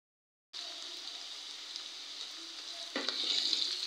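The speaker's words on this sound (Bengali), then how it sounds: "প্যান বসায় তেল দিয়ে পেঁয়াজ কুচি, কাঁচামরিচ, রসুন কুচি এগুলো দিয়ে ভালো করে লাড়াচাড়া দিয়ে একটু ভাজা ভাজা" Chopped onion, green chilli and garlic sizzle steadily in hot oil in a pan, a close, even frying hiss that swells briefly as the pieces are stirred.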